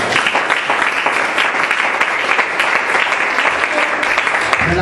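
Congregation at a French-language Christian sermon on Christmas breaking into loud, sustained applause and cheering that fills the room, dense and continuous throughout, with no clear speech over it.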